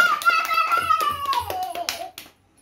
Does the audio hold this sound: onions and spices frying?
no